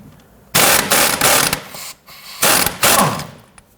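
A 15mm socket ratchet loosens the lower nut on a sway bar end link of a 1992-1996 Toyota Camry, giving loud close rapid clicking in four bursts separated by short pauses.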